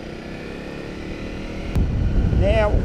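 A Honda CRF250 Rally motorcycle rides through city streets in Adelaide, with a steady engine hum that grows louder and rougher partway through. Wind and traffic noise sit underneath, and a rising tonal whine appears near the end.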